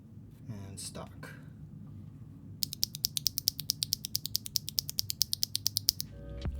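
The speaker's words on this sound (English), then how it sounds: "I definitely prefer the sound and feel of the factory lubed switch" Factory-lubed stock mechanical keyboard switch from the Aniya line pressed repeatedly, a steady run of crisp, close clicky-clacky keystrokes about five per second after a brief quieter start.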